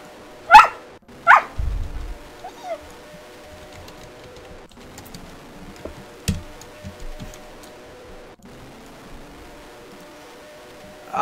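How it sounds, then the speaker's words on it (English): A dog lets out a few sharp, angry barks, loud and close in short bursts, followed by a stretch of quieter background with scattered ticks and thumps. "No, my dog is just being angry."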